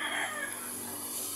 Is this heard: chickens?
yes